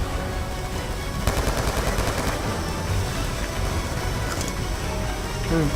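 Rapid gunfire in the Call of Duty Black Ops 2 video game, a dense continuous burst of automatic shots layered with explosions and game noise, loud and sustained with no speech.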